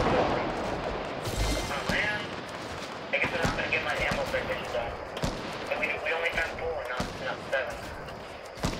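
Gunfire in the Fortnite video game, with sharp shots scattered through a busy in-game soundscape while players talk over it.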